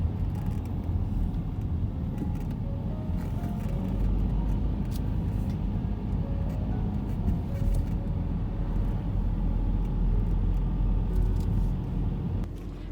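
Steady traffic on a tree-lined street in central Amsterdam, with cars and trams sharing the road, forms a continuous low rumble of passing engines at moderate distance, with no talking.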